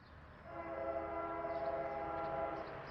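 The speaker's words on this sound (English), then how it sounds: "First up, the R.J. Corman train." An R.J. Corman train sounds its horn in a steady, sustained chord that swells in and holds, heard from a short distance in open countryside.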